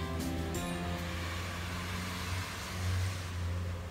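A rocket launch heard from about an hour away: a steady, distant low rumble with a tonal hum that swells slightly near the end, with no talk over it.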